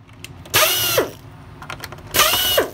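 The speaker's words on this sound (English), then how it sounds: "So I'm going to take the Phillips heads out first." A power screwdriver backs Phillips screws out of a Shark NV500 vacuum housing in two separate bursts, each a steady whirring drive with a descending whine as the screw loosens, close and loud with no talk.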